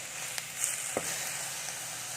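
Minced pork cooks in a hot pan with a little water, giving a soft, continuous bubbling sizzle with a couple of faint stirring taps, fairly quiet and without speech.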